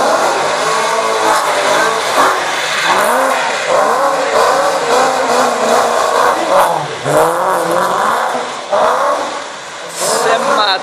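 A BMW M3 drifting in the rain, its loud engine revving and surging continuously with rising and falling pitch sweeps, close and dominant throughout, with voices faintly mixed in.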